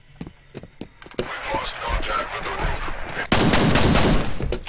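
Nail gun firing in the shooter game F.E.A.R., a rapid run of sharp shots that gives way to dense, continuous gunfire and clatter, loud and close.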